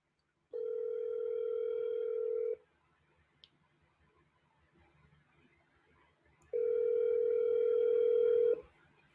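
A steady telephone tone sounds in two long, even bursts about four seconds apart, with a quiet gap between them and no talk.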